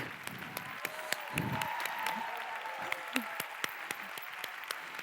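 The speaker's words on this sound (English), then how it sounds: "give you a big round of applause to your 5 speakers" An audience at a youth summit on disability inclusion applauds its five speakers, with scattered sharp claps over a room wash while a voice talks over it.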